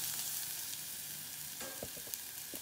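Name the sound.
carrots frying in a pan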